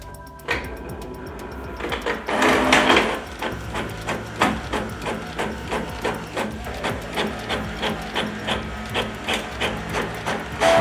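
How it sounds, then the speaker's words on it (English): A Canon PIXMA G-series ink tank printer running a mono copy, with clunks of paper feeding followed by a rhythmic series of mechanical strokes as the print head shuttles back and forth, close up. "I finish my printer setup with the mono copy test."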